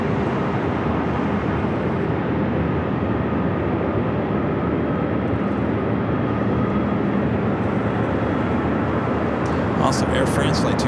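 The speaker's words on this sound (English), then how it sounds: "Volaris coming in from Guatemala City, flight 4060, an A320neo" A Volaris Airbus A320neo arriving at LAX at night, a continuous distant jet rumble and whine holding steady for several seconds, with faint background noise and no clear talking.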